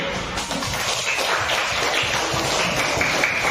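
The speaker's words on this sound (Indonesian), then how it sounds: "Memberikan apresiasi tepuk tangan." A class of pupils gives a steady burst of applause in an Indonesian classroom: continuous, loud, dense clapping that fills the whole moment without a break.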